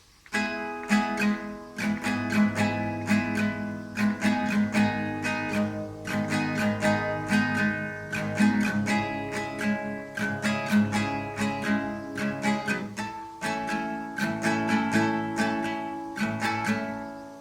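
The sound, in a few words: guitar strumming a chorus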